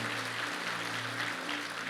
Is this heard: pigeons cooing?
no